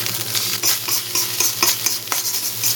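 Rice with peas and carrots stir-fried over high heat, a steady close sizzle with scraping utensil strokes and clatter in an irregular rhythm, no voices.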